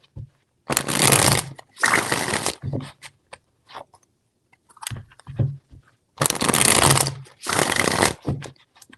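Tarot cards are shuffled in crisp, close riffling bursts: two quick shuffles, a pause with faint handling noises, then two more bright, loud shuffles.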